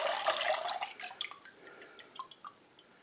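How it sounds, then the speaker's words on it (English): Apple-scrap vinegar juice is poured off from a container, making a brief close splashing pour that thins into a few scattered drips and trickles. "Now you can pour most of this juice off without dumping all of these."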